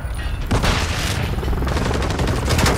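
Rapid bursts of gunfire in Call of Duty Modern Warfare 3 rattle loud and close, a dense fusillade of shots filling nearly three seconds.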